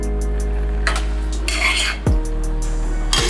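A pan lid coming off and aviyal being mixed, with a couple of sharp metallic clinks and scrapes over a constant low hum from a stove or exhaust fan.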